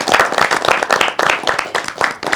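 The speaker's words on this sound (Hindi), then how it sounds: "एक बार खुद के लिए ताली बजा" Cricket fans gathered in a fan corner clap for themselves, a loud close burst of uneven hand claps from a small group, with loose pulses of clapping running throughout.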